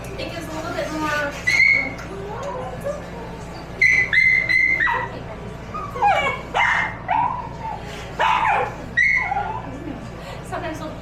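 A puppy at a vet clinic throws a tantrum, giving repeated loud whines, yelps and sharp barks in irregular bursts close by, with people talking softly in between.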